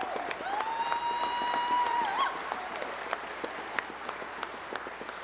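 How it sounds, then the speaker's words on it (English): A convention audience claps in scattered, moderately distant applause at a union gathering, the patter of many hands steady but fairly faint, with a brief whistle rising near the start. "And yeah, you can applaud for sure."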